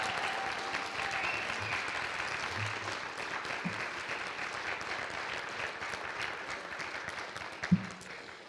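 At a university Three Minute Thesis competition, the audience keeps up a sustained, even round of applause that sounds moderately distant and continues without a break.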